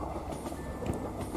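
A train rumbles steadily near a track in Indonesia, with a dense low rolling rumble and faint rhythmic wheel clatter and no voices.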